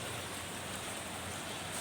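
Heavy rain falling in Ernakulam, a steady dense hiss with no break, even and fairly soft, with no voices.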